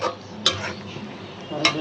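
A spoon scraping and stirring chicken bhuna made with broiler chicken legs in a pot, two sharp metallic clinks against the rim over a soft sizzle.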